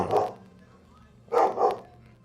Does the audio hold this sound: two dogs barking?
yes